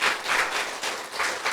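Lecture audience at a patriotic memorial special talk applauding in a short, steady wash of clapping, moderately near, with no voices over it.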